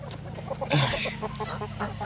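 A brief flurry of honking, quacking waterfowl calls nearby, a few overlapping squawks within a couple of seconds.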